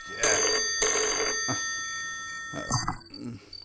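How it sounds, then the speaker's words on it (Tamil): Telephone bell rings in two loud, bright bursts, then a short pause and a third ring starting near the end, alone with no talk. "யாரா அவன் இந்த நேரத்தில் எனக்கு ஃபோன் பண்ணுறது?"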